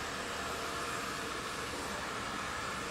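A hair dryer running on a low setting while drying curled hair, giving a steady, even whoosh of airflow with no breaks, close by and moderately quiet.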